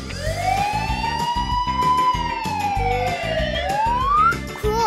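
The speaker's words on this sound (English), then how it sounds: "Police car." A police siren wails loudly nearby, sweeping up and down in pitch over a rumbling vehicle engine and traffic noise.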